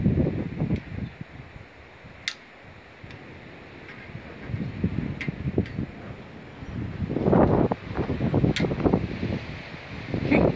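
Gusty wind buffets the microphone outdoors in low rumbling surges, rising and falling, with a few faint clicks and no talking.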